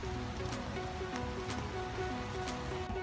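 Rain pouring down heavily, a steady dense wash of patter with occasional sharper drips, continuous and fairly close, accompanied by a faint repeating tonal hum underneath.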